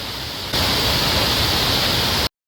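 Shenbagadevi waterfall in Tamil Nadu, a dense, loud, continuous rush of falling water that swells sharply after a moment, then cuts off abruptly.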